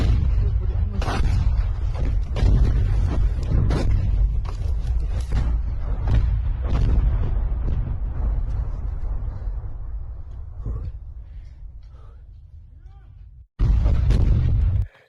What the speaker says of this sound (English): This is just a Ukrainian soldier under a Russian artillery barrage.